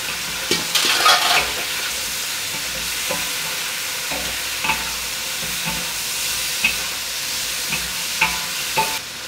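Lamb stir-fried with dried chilies in a pot makes a steady, close sizzle, broken by regular scrapes and clanks of the stirring utensil against the metal, with no voices.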